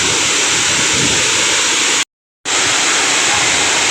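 Khun Korn waterfall, a single-tier fall roughly fifty to seventy metres high in forest near Chiang Rai, a loud, continuous broadband roar of falling water, broken once by a brief dropout.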